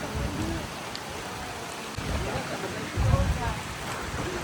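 Heavy rain pours down on an outdoor sound system setup, a constant dense roar of water with heavier splashing bursts and low rumbles, while voices talk faintly underneath.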